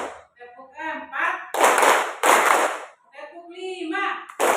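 A primary school class claps in short unison bursts, two loud rounds of clapping separated by children's voices chanting in between, close and lively in a classroom.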